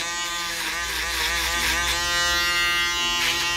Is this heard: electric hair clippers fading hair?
yes